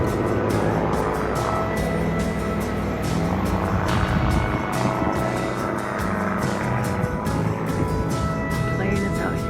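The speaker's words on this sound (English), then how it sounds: "The plane is out here doing tricks" A stunt plane doing tricks, flips and dives drones overhead with a rising and falling engine roar, heard outdoors in a park under steady wind buffeting and occasional voices.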